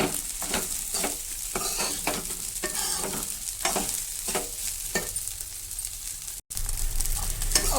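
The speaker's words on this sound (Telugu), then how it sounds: "ఒక 2-3 మినిట్స్ హైలో పెట్టుకొని ఇలా కలుపుతూ ఉండండి" Egg fried rice is stir-fried over high heat in a pan, a continuous sizzle broken by repeated rhythmic scrapes and tosses of the spatula, close up and without talk.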